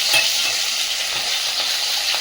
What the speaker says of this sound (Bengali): এদিকে মাছগুলো ভেজে তুলে নিয়ে মাথাগুলো ভেজে নিচ্ছি